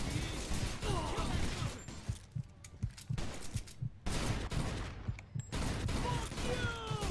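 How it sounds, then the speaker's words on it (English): Gunfire from a bartender inside a bar in the Mafia II video game, repeated sharp bursts of shots in a noisy, dense stretch with brief gaps between volleys. "I'm pretty sure the barkeep is shooting at us."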